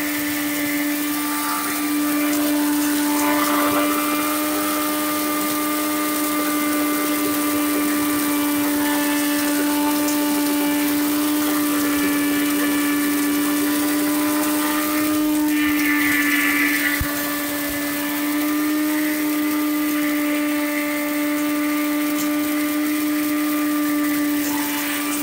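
A Niva household electric grain mill grinds grain with a steady high motor whine and strong tonal hum, loud and close, running without a break for about twenty-five seconds, with a brief rattling surge partway through.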